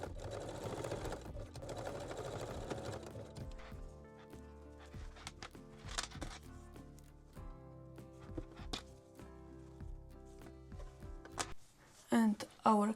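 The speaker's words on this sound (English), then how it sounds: "secure the strap loop here in the underarm area. So you can use just a straight stitch or zigzag" A sewing machine runs a straight or zigzag stitch to secure a strap loop at the underarm of a lace-edge bralette. The close mechanical whirring comes in stretches with short pauses, and a sharper clatter of stitching sounds at the very end.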